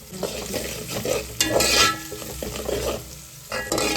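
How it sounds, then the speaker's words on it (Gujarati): Asafoetida, turmeric and spices temper in hot oil in a pan for palak dhokla, giving a loud sizzle. A spoon stirs and scrapes against the metal in rhythm, close up, with no voices. "વઘાર મારવાનો છે કે મસ્ત મજાનો મસાલો સડી ગયો છે"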